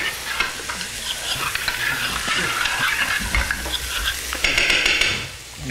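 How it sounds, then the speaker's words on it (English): Sauce is stirred into pork roast pan drippings, giving a steady close sizzle and frying hiss broken by scraping strokes of a spoon against the pan. "So we're just gonna spoon a little bit of that into our pan drippings here."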